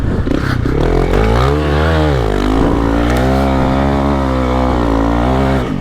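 A Honda CRF300L dirt bike revs hard and accelerates up a sandy hill out of a loose, off-camber corner, its engine note loud and close, rising, dipping and climbing again throughout.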